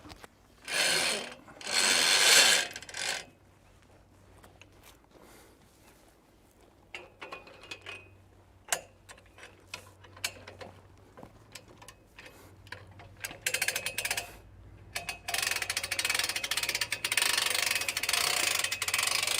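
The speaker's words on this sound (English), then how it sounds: "Now we can use the winch the same way we did last time." A winch on a Logosol B751PRO band sawmill ratchets and clicks in bursts, with loud stretches of mechanical rattling at the start and again toward the end, separated by quieter ticking and clicks.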